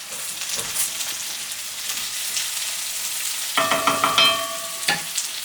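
Mushrooms frying in a pan with chopped greens stirred through make a soft continuous sizzle, then a few clinking scrapes of a utensil against the pan near the end, close and quiet, no talking.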